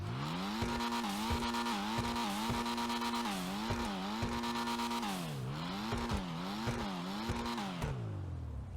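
Annis Euros sports car in the GTA Online video game revs repeatedly, its engine climbing and falling in pitch through rapid gear shifts, a loud continuous synthetic engine note with no voices.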